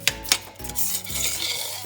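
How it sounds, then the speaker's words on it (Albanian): Utensil scrapes and clinks in a pan as mushrooms are stirred while frying in oil for a mushroom rice pilaf, two sharp knocks followed by a steady sizzling hiss, close and fairly loud with no talking. "Dhe bëjmë një skuqje ja shumë, që të marrë shumë ngjyrë"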